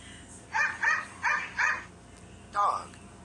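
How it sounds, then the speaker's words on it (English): A dog barks four times in a steady rhythm, then gives one more bark after a short pause; the barks are close and clear. "Where is the dog?"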